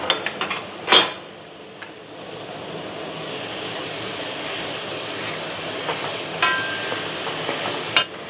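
Chopped onion lands in hot oil where mustard seeds and fenugreek have already popped, bringing a sharp burst of crackling that settles into a long, even hiss of frying, close by and without speech.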